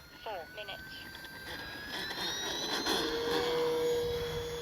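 An FMS Cessna Skylane 182 RC airplane with a 1500 mm wingspan taking off from grass in the evening, its electric motor whine rising in pitch and building steadily louder over a few seconds.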